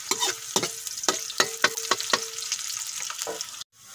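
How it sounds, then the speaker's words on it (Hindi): Onions frying in a pan for mutton liver masala, with a steady sizzle broken by repeated sharp scraping strokes of a spatula stirring, ending in an abrupt cutoff. "प्याज को हल्का ब्राउन करेंगे, 2 से 3 मिनट में ये ब्राउन हो जाएंगे।"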